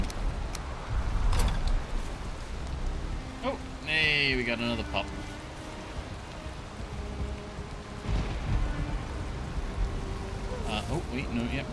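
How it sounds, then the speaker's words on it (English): Steady rain falls in a Norse-themed video game, a soft continuous patter with occasional distant rumbles, heard under a player talking intermittently. "The rain's a bit unfortunate."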